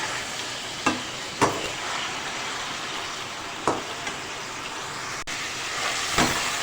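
Chicken pieces fry in hot oil with a steady broadband sizzle, broken by a few sharp clicks and bumps from a utensil or the pan, no talking.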